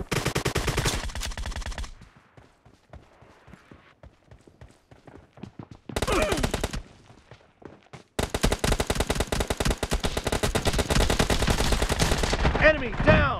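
Rapid automatic gunfire in a video game comes in loud, dense bursts separated by quieter stretches of scattered single shots, with in-game voices briefly heard.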